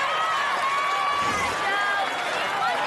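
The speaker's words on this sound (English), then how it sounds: "And the crowd sensing something special. Yeah, they're going nuts." An arena crowd at the American Ninja Warrior Las Vegas National Finals roars in a loud, continuous wash of cheering beneath a commentator's excited talk.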